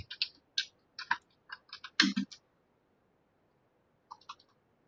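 Typing on a computer keyboard during a live history lesson, heard as short bursts of crisp key clicks in irregular clusters with pauses between, fairly close and moderately quiet, with no talking.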